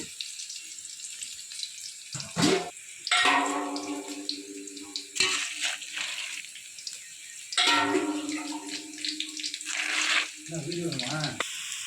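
Water is poured in several bursts, splashing into a container of puffed rice to soak it, while a person talks in between the pours.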